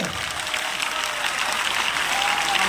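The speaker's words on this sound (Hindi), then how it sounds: "पीछे तक दोनों हाथ उठा के तालियों में कमी नहीं रहनी चाहिए।" A crowd applauds steadily, dense clapping filling the whole stretch at an even, fairly loud level.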